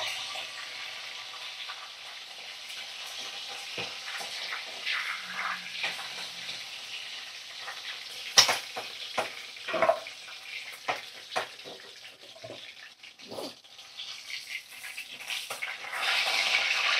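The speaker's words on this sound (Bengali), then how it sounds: "এইভাবে দেখো সমস্ত চিকেন আমি তেলের মধ্যে দিয়ে ভাজা ভাজা করে নেব" Chicken pieces rubbed with salt and turmeric fry in hot oil with a steady broadband sizzle, punctuated by sharp pops and spatters and occasional stirring clatter, close and fairly loud throughout.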